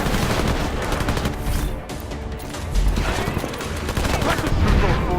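Combat gunfire from the video game Deus Ex: Mankind Divided, with dense, continuous bursts and crashes of shots and impacts throughout, loud and busy with no quiet gaps.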